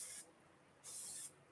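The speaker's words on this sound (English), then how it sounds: "So then you want to spray your pan" Non-aerosol cooking oil is pumped from a spray bottle onto a pan before cooking pimiento chicken: two brief, close hissing bursts separated by a short pause, in a quiet kitchen.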